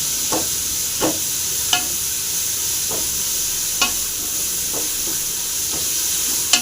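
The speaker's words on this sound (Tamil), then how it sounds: "புதினா வந்து ஒரு கைப்பிடி அளவு புதினா போட்டுடலாம். இதை போட்டோடனே நல்லா ஒரு கலக்கிங்க." A handful of mint leaves being stirred into sizzling chicken biryani masala, a steady frying hiss broken by irregular scraping strokes of the spoon against the pan.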